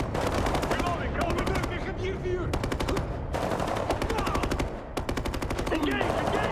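Bursts of rapid machine gun fire from a Ubisoft shooter shown at E3 2011, loud and close, with sustained automatic volleys and brief gaps between them, mixed with shouted combat callouts.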